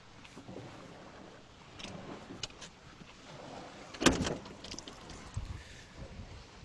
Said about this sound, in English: And now I'm going to tilt my motor down because a lot of times there's water inside of here as well